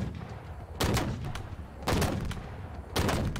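An artillery piece fires in Halo gameplay, three loud, heavy booming shots spaced about a second apart over a constant rumbling background.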